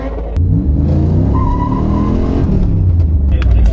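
A Chevrolet Camaro pulls away with a loud, close engine roar that builds as it accelerates, a brief tire chirp in the middle, and the engine note dropping as the car drives off.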